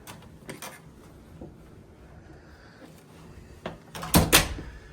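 A hotel room door at the Omni Hotel Boston Seaport is opened and closed, giving a few soft clunks and then a louder, close double thud near the end with no speech.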